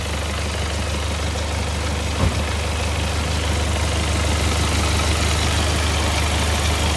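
Steady low rumble of a Hyundai Venue SX 16-valve CRDi diesel engine idling nearby, constant and unbroken, with a single brief knock partway through.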